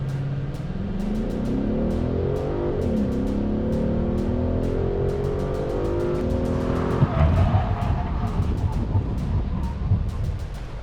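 A car brakes hard during a braking challenge at a race day, its tires skidding with a long loud screech over steady engine noise, then a rough grinding scrub as it comes to a stop.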